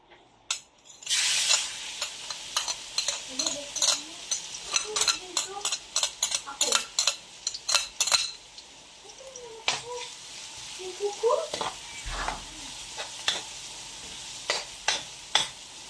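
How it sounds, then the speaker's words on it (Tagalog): Garlic dropped into hot cooking oil sets off a sudden loud sizzle that keeps crackling with sharp pops and scrapes. A few brief voice sounds and utensil knocks come through on top of the frying. "Ayan po, mainit na po yung ating mantika. Ilalagay na natin yung bawang."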